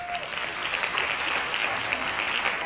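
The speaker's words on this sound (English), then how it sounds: "Hand claps." An audience at a live comedy show claps, giving a steady burst of applause throughout.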